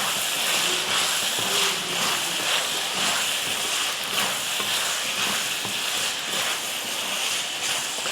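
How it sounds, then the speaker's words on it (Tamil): Potato and tomato fry together in a pan, giving a dense, continuous close sizzle broken by rhythmic scraping and stirring strokes. "அதையும் போட்டு கிளறிடலாம்."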